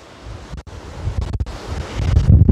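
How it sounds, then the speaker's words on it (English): Strong wind blowing outdoors at a lakeside area with canoe rentals before a big storm, a continuous rough roar buffeting the microphone, gusting louder toward the end. "Oh man, it is windy."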